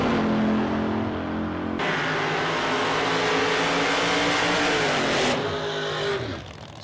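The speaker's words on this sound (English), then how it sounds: "Side-by-side burnouts, the 55 and the 57 Chevrolet" At a drag racing event, a 55 and a 57 Chevrolet do side-by-side burnouts. Their loud, sustained engine roar holds high revs for several seconds, then shifts in pitch and tapers off near the end.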